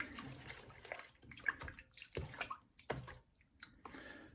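Sourdough starter is stirred into a bowl of water, giving soft irregular sloshing and swishing with small splashes and clinks, close and fairly quiet throughout.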